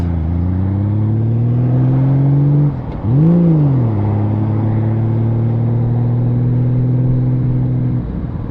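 A Honda Valkyrie motorcycle rides through rush-hour traffic, its engine droning loud and steady, dipping briefly and rising again with a short rev before settling back into an even hum.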